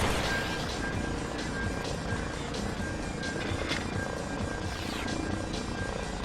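Helicopter in the video game Parkside: Decayed Soul Manipulation, a steady droning rotor roar that fills the whole stretch at a constant level with faint rhythmic pulsing.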